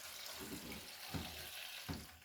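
Aquarium water draining through a siphon hose during a saltwater tank water change, a steady close gurgling rush with a few soft sloshing surges spaced through it.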